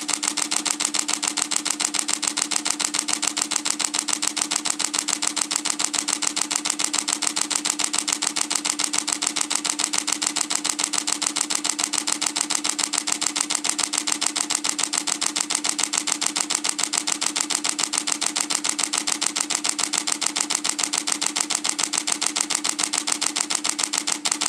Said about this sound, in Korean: 드라이브 모드 하이에서는 최대 7프레임의 연속 촬영을 진행할 수 있는데요